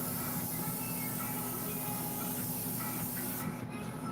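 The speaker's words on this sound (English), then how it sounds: "so I'm not really worried about overspray on the belt." An airbrush or spray gun repaints a Sideshow Darkseid maquette, giving a steady close hiss that fills the clip and then thins briefly near the end, with no talk.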